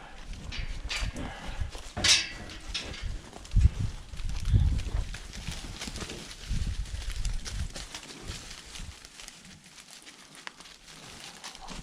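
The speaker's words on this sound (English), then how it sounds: "Let all the cows in here." Cows moving into a pen on a farm, with scattered hoof thuds, shuffling and clatter over steady barnyard background noise, a few louder knocks standing out, no talking.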